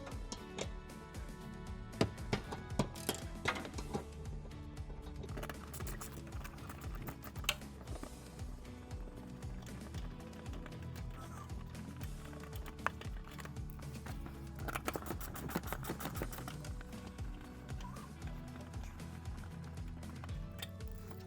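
A wrench works the fasteners off the TRD Pro skid plate under a 2025 Toyota 4Runner, giving steady, dense ratcheting clicks and clatter for over twenty seconds with a few sharper metallic taps.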